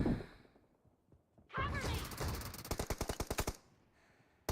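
An M2 fires in a shooting video game: a rushing whoosh leads into a rapid burst of about a dozen sharp, evenly spaced automatic shots, loud and close, then a quick fade.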